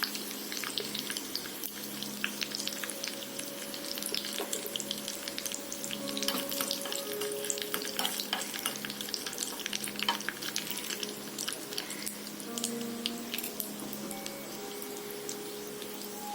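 Curry leaves, mustard seeds, fenugreek seeds and red chili sizzle in hot oil with a continuous crackling spatter, steady and moderately close, with faint tonal background hum and no speech.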